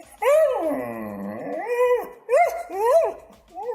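A dog growls and barks close and loud, a long drawn-out growling howl followed by several shorter rising barks, with no speech over it.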